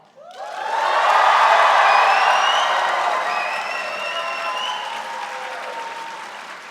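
A large graduation convocation crowd breaks into sustained applause with cheers and whoops, swelling quickly to a loud peak and then easing slightly while staying dense through to the end.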